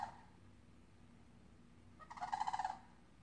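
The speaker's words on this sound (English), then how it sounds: "So I wake up to two fucking birds screaming their asses off." Two loud birds scream in a short rapid burst of harsh, gobbling calls after a quiet stretch, with a fainter call at the start, heard from a distance indoors.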